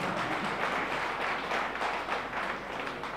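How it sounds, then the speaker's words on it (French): Crowd applause honouring the EFODAS football team after their win in a Bouaké football league tournament, a continuous wash of many hands clapping at moderate distance. "Je demande des applaudissements pour EFODAS"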